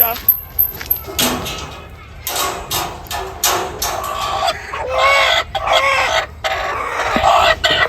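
Chickens cluck loudly and repeatedly nearby, mixed with jangling and clattering noises and people talking over them.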